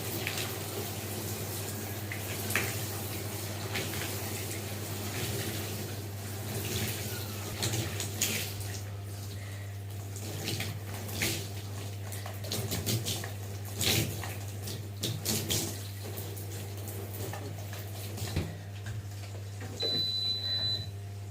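Water running steadily from a tap while shampoo is rinsed out of hair, a low, continuous splashing flow over a constant hum, with occasional faint knocks and handling sounds.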